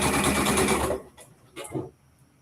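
A sewing machine runs a gathering stitch along garment cuffs, a steady close whir for about a second before stopping, followed by a couple of faint handling rustles.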